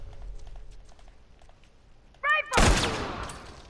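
Gunfire in a Last of Us multiplayer match: after quiet footsteps and a short voice-like yelp, a loud close gunshot blast bursts out and rings down, with a few rapid cracks.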